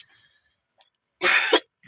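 A person with fever and a cold gives a single harsh, close cough, heard alone after a short stretch of near silence.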